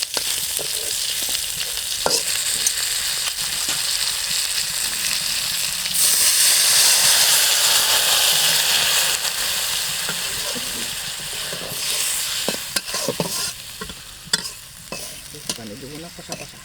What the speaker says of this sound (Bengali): একটু হালকা করে কষা কষা মাছটা রান্না করা হচ্ছে